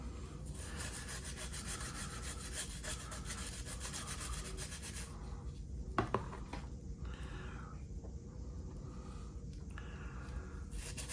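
Steady, quiet scrubbing strokes rub stubborn paint off a model car body, a continuous rasping texture with a couple of brief knocks partway through.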